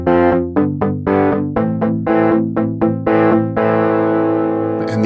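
A crunchy electric guitar on an AeroBand smart guitar's overdrive tone plays a quick run of picked notes and chords, ending on a sustained ringing chord.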